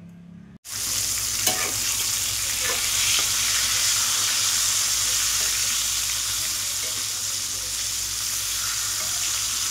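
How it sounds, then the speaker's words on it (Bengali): Pointed gourd frying in oil gives a continuous bright sizzle after a brief quiet start, with an occasional faint clink, close and steady throughout. "এই যে পটলটা ভাজা হয়ে গেল"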